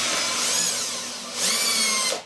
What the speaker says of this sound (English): next step is to run the screws into the top cleat